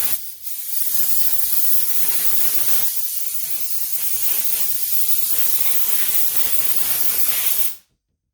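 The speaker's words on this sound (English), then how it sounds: "now we're going to be spraying it off with compressed air" Portable air compressor blasting compressed air over a computer motherboard, a loud steady hiss lasting about eight seconds that cuts off sharply at the end.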